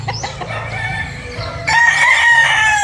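Sweater Gilmore and Boston gamefowl breeder roosters crowing on a farm, clucking at first, then a loud sustained crow that takes over the second half.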